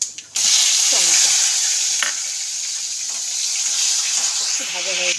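Whole cumin seeds and tomato hit hot oil for a vegetarian masala khichuri, giving a loud, steady sizzle with stirring scrapes throughout and a brief voice murmuring faintly underneath.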